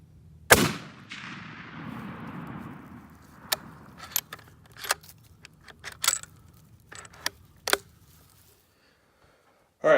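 Shots from a Remington 700 SPS Tactical bolt-action rifle chambered in .308 at a range: one loud close crack with a decaying tail, followed by a series of lighter metallic clicks and clacks like bolt cycling.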